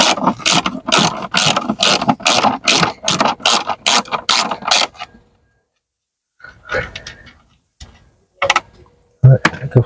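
Ratchet wrench loosening the battery clamp nuts on a Ford Focus, a fast run of loud, close clicking strokes for about five seconds, then silence broken by a few scattered clunks and scrapes.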